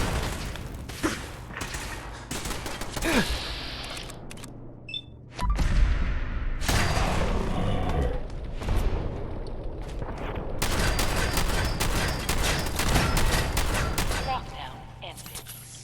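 Gunfire breaks out during a fight against Assaultron robots in the video game Fallout 4, with repeated sharp shots and bursts, a brief lull and then heavy continuous firing, with someone talking at points.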